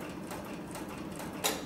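Cowboy industrial sewing machine stitching through four layers of 3 to 4 ounce upholstery leather, a quiet, steady mechanical hum with soft rhythmic ticking and one brief louder knock near the end.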